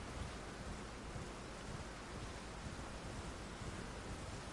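Rain and rumbling thunder in the video game Elden Ring, a dense steady downpour with a low roll of thunder, continuous and even, with no speech.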